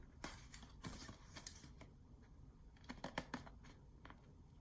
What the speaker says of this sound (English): I'm gonna trim in between here so they don't rub together when you fold. So I'm just taking my scissor